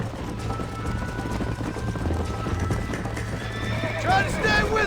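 In the game Red Dead Redemption, a horse gallops with rapid, rhythmic hoofbeats, neighs near the end, and runs under a character's spoken lines.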